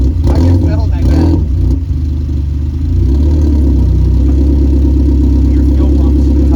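A Mazda NA Miata engine idles steadily right after a new fuel pump install, with a constant low rumble that stays loud and even throughout. People talk over it near the start.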